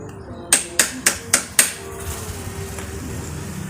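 A steel nail is hammered against the pin holding a motor's fan blade, giving five sharp, evenly spaced metallic strikes close by, followed by quiet room tone.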